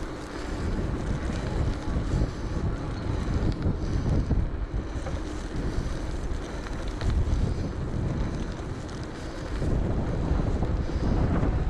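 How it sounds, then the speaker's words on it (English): Strong gusting wind roars steadily across the microphone during an electric bike ride along the coast from Morecambe toward Glasson Dock, loud and close throughout, with no talking. "As you can hear, it's very windy."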